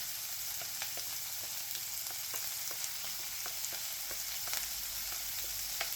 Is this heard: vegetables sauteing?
yes